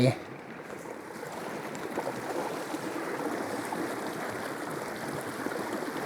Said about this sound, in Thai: น้ำตกน้ำไหลลงมานี่